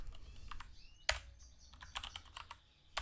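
Keys clack on a computer keyboard as a word is typed in a coding session: a handful of separate, crisp taps at close range, one sharper than the rest, with short gaps between them.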